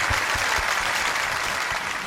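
A seated audience applauds to thank the judges, a loud, dense, continuous patter of clapping hands that fills the whole short stretch without any talk.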